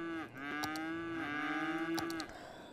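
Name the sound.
cows mooing in video game Cities: Skylines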